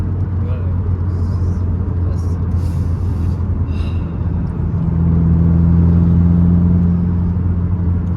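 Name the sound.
Subaru WRX engine accelerating under throttle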